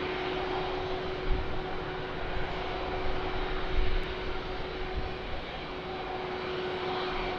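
A jet aircraft lands at Lisbon Airport, heard as a distant, steady engine roar with a low rumble that swells slightly near touchdown, and a faint tone runs underneath.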